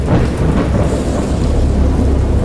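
Storm ambience from the Lovecraft-inspired visual novel Dagon: a dense, steady roar of rain and low thunder rumble, loud and continuous throughout with no voices.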